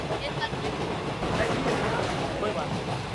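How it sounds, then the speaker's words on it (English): Commuter local train in Kolkata arriving at a station, a dense rumbling, rushing roar that fills the scene steadily and closely, with people talking over it. "Okay, our train's here."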